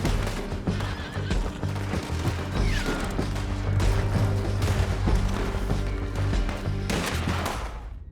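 Horses neigh and gallop in the video game Red Dead Redemption 2, loud whinnies over rapid clip-clopping hooves, with gunfire and crashes mixed into the action.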